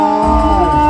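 A crowd at a Kenyan celebration for Githua cheers and whoops loudly, a dense, continuous roar of voices throughout a single short burst.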